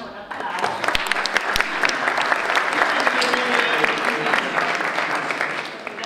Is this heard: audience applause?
yes